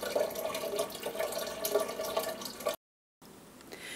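Water runs steadily from a kitchen tap in an Amish home, a soft continuous splashing stream that briefly cuts out before resuming.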